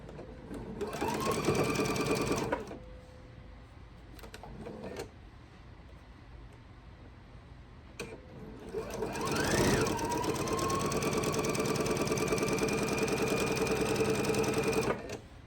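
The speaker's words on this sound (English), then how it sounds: "So I've sewed one 1/4 inch on one side" A sewing machine runs close up as it stitches a quarter-inch seam on a quilt block: one short burst of steady whirring, a pause with faint handling, then a longer continuous run.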